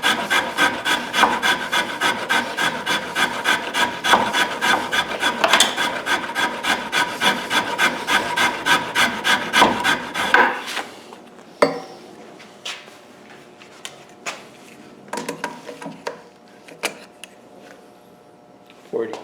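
A Japanese rasp and dragon file carve a wooden guitar neck by hand with loud, rhythmic rasping strokes that run steadily for about ten seconds, followed by a few scattered scrapes.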